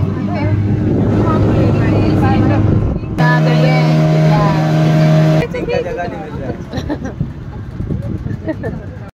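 A small passenger boat heading out to sea, its motor droning loudly and close with a strong tonal hum that shifts pitch partway through, mixed with wind buffeting and rushing water.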